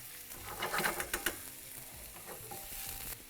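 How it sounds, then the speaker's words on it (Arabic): Onions fry in a pan with a soft, steady sizzle, along with a few brief stirring scrapes early on, all fairly quiet and close. "البصل عم يتقلى، صوته واضح"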